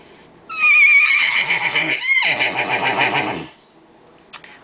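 A human voice imitates a horse's whinny, a loud, shrill, wavering neigh lasting about three seconds with a brief dip midway, then quiet.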